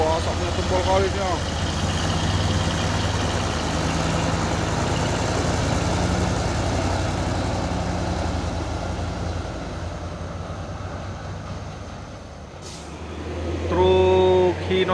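A Hino truck drives past on the road, its engine droning steadily with a low, even growl, easing off briefly before a louder engine surge returns at the end, with a faint voice in the background.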